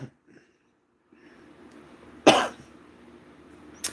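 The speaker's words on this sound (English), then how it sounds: "I've had this cough for almost 7 weeks" A chronic cough of about seven weeks, without illness, in a quiet room: one sharp, fairly loud cough followed shortly by a brief second one, with faint background noise between.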